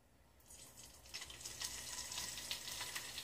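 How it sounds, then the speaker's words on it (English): Bacon hits a hot frying pan with a drop of oil and starts a rising, crackly sizzle with scattered pops, growing louder and steadier over a few seconds, heard alone. "And you hear that sizzles?"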